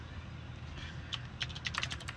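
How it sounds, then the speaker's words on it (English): Light, quick typing on a computer keyboard while entering script code, a soft irregular patter of close keystrokes that grows busier toward the end, with no talk. "Didn't have that typing into the code window."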